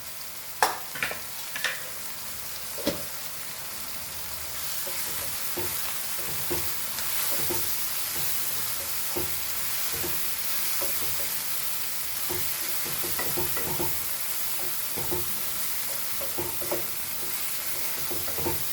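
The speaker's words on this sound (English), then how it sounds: "Fry this very nicely, all the masalas." Masala spices, including chili powder, coriander powder and garam masala, fry in a pan for dal, with a steady close sizzle and repeated stirring scrapes throughout and no voices.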